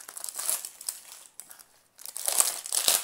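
Crinkly paper wrapping is pulled off a diamond painting box, with bursts of close crackling and rustling, a brief lull in the middle and sharper crunches near the end, no talking.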